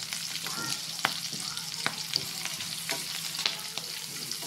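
Pork fries in plenty of oil in a pan while being stirred, giving a steady close sizzle with regular spatula knocks and scrapes and no talk.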